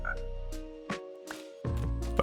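A frog croaks twice in Minecraft, near a mangrove: two short, bright calls amid a steady musical game backdrop, the second croak fainter, with the ambience swelling at the end.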